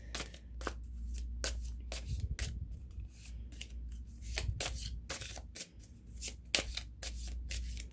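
A deck of cards being shuffled for a card reading, with quick riffling bursts and soft flicks repeating close up and fairly quiet against a low hum.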